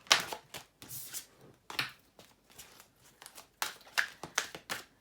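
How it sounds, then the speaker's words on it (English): Tarot cards riffle and slap together in several quick bursts with short pauses between, close and fairly quiet. "Let's do some more shuffling this way as well."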